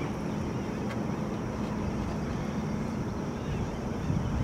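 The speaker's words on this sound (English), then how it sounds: "that's just me turning the boat" A fishing boat's outboard motor running while the boat turns on a river during catfishing with planer boards, a steady low rumble mixed with wind and water noise, moderately loud and continuous.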